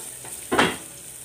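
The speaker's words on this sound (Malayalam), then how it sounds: "സവാള ഒന്ന് ട്രാൻസ്പെറൻ്റ് ആയിട്ട് വരട്ടെ." Sliced onions frying in a pan for a green gram masala curry: a brief soft scrape of stirring, then a short burst of sizzling that swells and fades over a steady background hiss.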